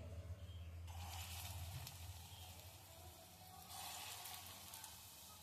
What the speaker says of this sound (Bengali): এবার আমি বড়ার মতো করে ভেজে নিচ্ছি।